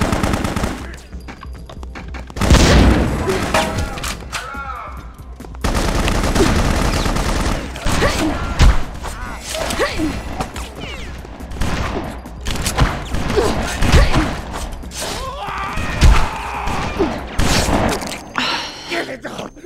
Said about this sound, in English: Explosion there, and that still didn't open up the door.